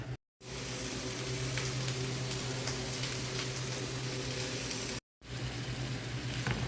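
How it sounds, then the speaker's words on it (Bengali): Garlic and onion frying in ghee make a soft, even crackling sizzle close by, broken by two brief silences. "রসুন পেঁয়াজ এবং ঘি নিয়ে নিয়েছি এখন হালকা বাদামি করে ভেজে খিচুড়ির উপর দিয়ে দেবো"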